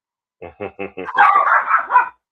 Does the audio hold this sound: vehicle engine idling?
no